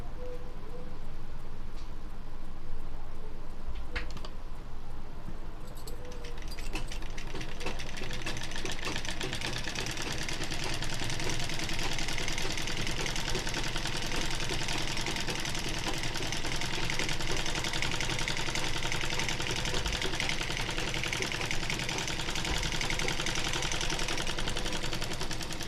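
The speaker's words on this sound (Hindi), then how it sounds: "तो ये निशान हमारा जो था उस पर हमने ये सिलाई लगा ली है" A sewing machine stitching cloth runs in a continuous fast mechanical whir with a rattling needle rhythm, close and steady for the whole stretch after a brief quieter start, with no speech.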